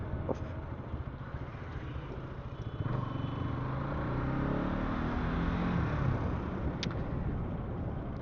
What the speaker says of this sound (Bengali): গাড়ি সার্ভিসিং করাতে হবে, কেননা গাড়ির ইঞ্জিনের আওয়াজ প্রচুর চেঞ্জ হয়ে গেছে।